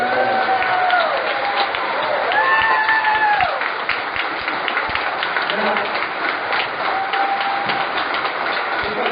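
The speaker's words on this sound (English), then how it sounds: "give them a round of applause." An audience in a hall applauds the candidates at a Republican debate, with sustained clapping and crowd noise, voices and calls rising over it before the clapping thins out.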